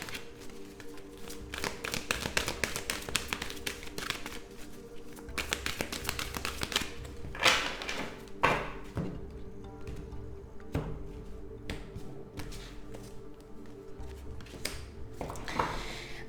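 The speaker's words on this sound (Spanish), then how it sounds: "vamos a barajar este maravilloso oráculo" Oracle cards being shuffled by hand, a steady run of soft papery taps and riffles with a few sharper card snaps, close and fairly quiet with no voices.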